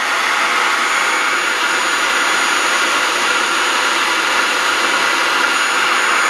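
A Magnum series rotary vane vacuum pump runs steadily and loudly nearby, a constant dense whirring roar with no breaks or changes in pitch.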